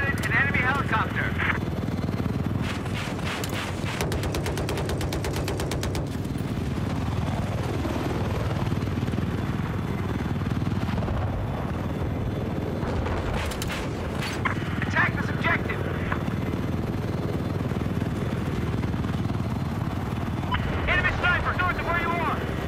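An enemy attack helicopter in Battlefield 4 drones steadily under busy game action, with bursts of gunfire and other combat noise layered over the continuous rotor thrum.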